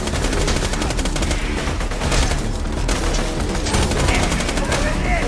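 Sustained rapid machine-gun fire from a sentry turret in the Borderlands 2 pirate DLC, loud and continuous with dense bursts and booming impacts throughout.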